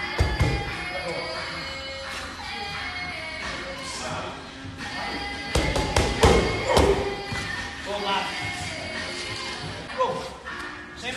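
A boxer works the pads, his punches landing as irregular sharp thuds and smacks in quick bursts, close and loud, with talking running underneath.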